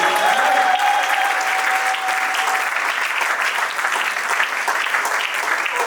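Sustained applause from a congregation during a church teaching session, steady and full for several seconds, dense clapping with a brief high tone near the start.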